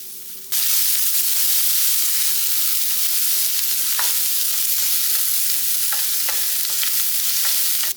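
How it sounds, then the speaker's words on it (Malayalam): Onion and green chili sautéing in hot coconut oil in a pan give a loud, steady, hissing sizzle that starts abruptly, with scattered clicks of a stirring spoon. "അത് ചൂടായ ശേഷം ഉള്ളി, പച്ചമുളക് അത് വഴറ്റിയെടുക്കുക"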